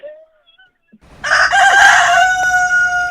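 A woman imitates a rooster's crow with her voice, a loud, drawn-out cock-a-doodle-doo that starts after a second of near silence and holds strong to the end.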